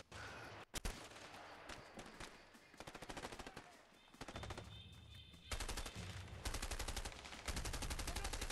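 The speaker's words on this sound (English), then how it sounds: "the shooting in this game" Gunfire from the video game A Way Out: bursts of rapid automatic shots and single cracks, close and loud, coming in several volleys with short gaps between them.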